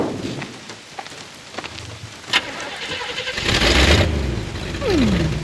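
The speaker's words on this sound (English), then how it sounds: "Engine still purrs nicely." A car engine cranks and catches during a Bayonetta video game cutscene, a loud close rumble swelling over steady rain on a surface, followed by a rising whine.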